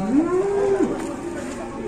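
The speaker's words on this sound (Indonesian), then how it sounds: "awas sapi gede" A giant cow at a market lets out one loud, drawn-out moo close by, its low, steady bellow ending in a short drop, with faint background noise around it.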